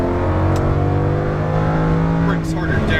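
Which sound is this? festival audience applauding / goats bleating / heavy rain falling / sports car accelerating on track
sports car accelerating on track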